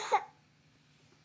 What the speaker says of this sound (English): It's like she's coughing